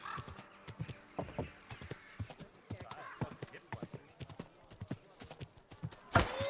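Horse hooves clip-clop rapidly through a video game village, a steady galloping patter of close, sharp strikes with occasional neighs, under intermittent talk and ending in a louder crash-like burst.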